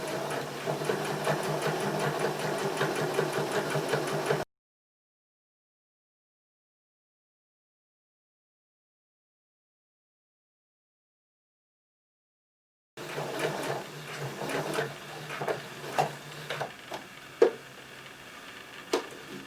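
A sewing machine runs a basting stitch down a fabric edge at a quarter inch, its steady motor whir running about four seconds, then silence, then resuming more unevenly with clicks and small knocks.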